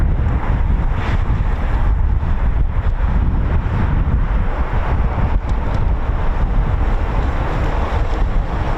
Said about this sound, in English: Wind conditions are pretty harsh.